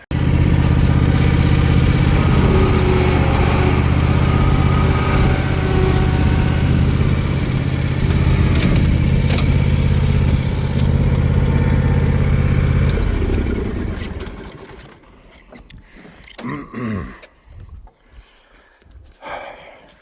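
A Cub Cadet Ultima ZT1 50-inch zero-turn riding mower engine runs loud and steady as the mower backs up. After about thirteen seconds the engine drone stops abruptly, leaving quieter scattered clunks and rustles.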